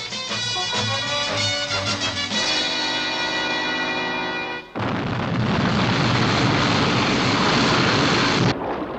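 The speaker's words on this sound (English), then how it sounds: "Stand by for liftoff" The Sky 1 aircraft lifts off as a roar that builds from rumbling tones into a loud, sustained rushing blast and cuts off sharply near the end, with no voices.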